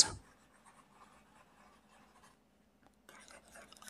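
Pen or marker writing on a board, faint scratchy strokes in short continuous runs, close and quiet with a brief pause before more writing.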